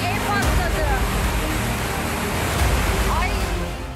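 Floodwater rushing into an apartment building in Ankara and tearing away windows and doors, a loud continuous roar of churning water with a faint voice intermittently over the torrent.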